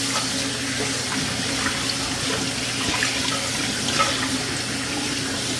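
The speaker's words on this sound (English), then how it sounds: "I want to wash this chicken off." A kitchen sink tap runs in a steady, close hiss and splash as a whole chicken is rinsed inside and out under the stream, with no one talking.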